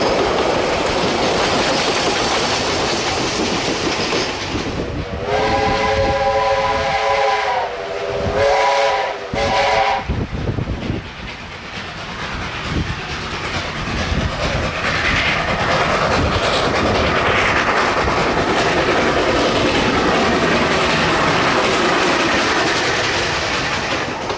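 Steam locomotive Ja 1271 hauls the Sunset Coast Express with a loud, steady rumble and clatter, a multi-note steam whistle sounding twice in the middle before the rolling noise carries on.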